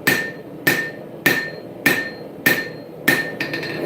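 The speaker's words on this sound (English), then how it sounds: "Forging in that distal taper." Six evenly spaced hammer blows ring out on a dagger blade being forged to a distal taper, each a sharp metallic strike with a bright ringing tone that decays before the next, close and loud with no talk.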